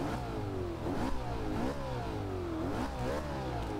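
A 2011 McLaren MP4-12C engine in Forza Horizon 2 revs up repeatedly, pitch climbing through each gear before dropping and rising again, a loud, continuous mechanical roar.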